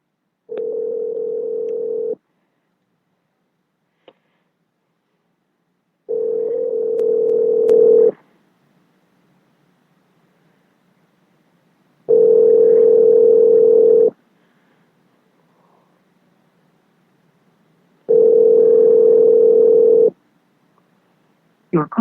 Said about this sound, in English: Going to be calling Mr. CJ Parker